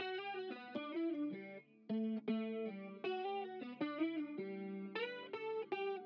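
A clean, bright electric guitar plays a hyperpop counter-melody of plucked notes and chords, shimmering with chorus and a touch of grit.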